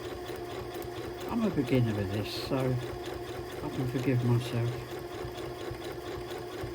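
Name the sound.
sewing machine stitching butterfly foundation piecing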